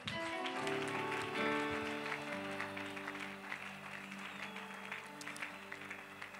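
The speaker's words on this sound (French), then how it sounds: "Est-ce que nous pouvons acclamer très fort?" Church congregation applauding loudly during a French-language worship service, steady clapping with sustained organ or keyboard chords underneath.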